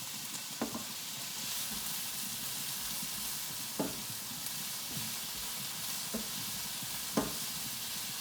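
Mustard greens fry in a pan with a steady close sizzle and hiss, broken by a few sharp scraping knocks of stirring spaced several seconds apart; no talk.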